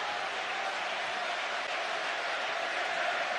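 Stadium crowd applauding a departing Chelsea player at a farewell, a steady, dense wash of clapping and crowd noise that holds evenly throughout without letting up.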